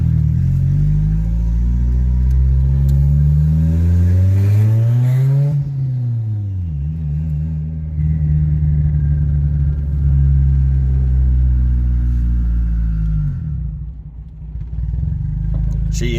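A boosted Honda EG car rolling up to and over a speed bump, its engine rumbling loud and close as the pitch dips and rises through the bump, then settles back to a steady drone.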